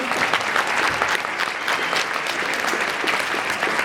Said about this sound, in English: can we get a round of applause for the JV girls?